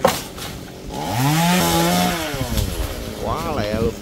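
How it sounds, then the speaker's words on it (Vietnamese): A chainsaw cuts into a large kapok tree, its engine rising and falling in pitch as the load changes, loud and close with a person speaking over it. "Quá lẹ luôn, máy cưa quá bé."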